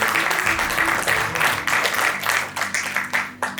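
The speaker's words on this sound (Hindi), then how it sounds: "Once more, big round of applause." Audience applause at a retirement celebration honoring a woman's 36 years of service, lively hand clapping from a crowd with distinct pulses and swells, loud and continuous throughout.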